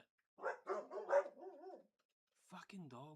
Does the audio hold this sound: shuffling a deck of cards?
no